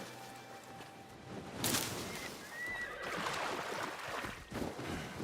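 A horse in the video game Assassin's Creed Shadows gives one loud, shrill whinny that tails off, followed by snorting and shuffling hooves against a quiet ambient background.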